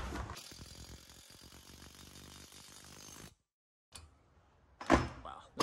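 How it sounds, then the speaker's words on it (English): A metal joist hanger going onto a Versalam beam in a 1940s beach house remodel: a dense run of rattling metallic clatter and thumps for about three seconds, then silence, then a brief knock and a sharp, loud close impact. "And I have a hanger I'm putting on right now."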